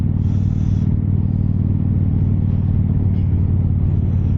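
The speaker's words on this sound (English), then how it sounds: "that's a cool car." A car passes outdoors with a steady, loud engine rumble throughout, close to the microphone, with no voices.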